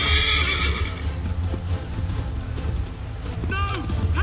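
A horse whinnies in the video game Assassin's Creed 3, a loud shrill neigh at the start and a shorter one near the end over a rumbling battle backdrop with hoof clatter.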